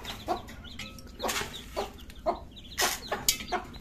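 Tiger chicken chicks hatched under a desi hen cluck and peep in short, repeated bursts close by, with quiet pauses between the calls and no talking.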